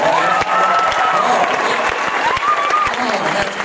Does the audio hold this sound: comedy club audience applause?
yes